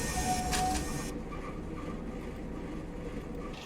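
Class 101 diesel multiple unit rumbling along in Train Simulator Classic, a steady low-heavy running drone with a brief high whine near the start, loud and continuous with no talk.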